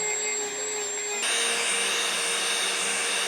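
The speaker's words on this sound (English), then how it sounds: "I gotta get the Dremel tool and grind this out." Handheld Dremel rotary tool grinding paint from the inside of a mud motor part, a high steady whine that switches on partway through and stays loud and close to the end.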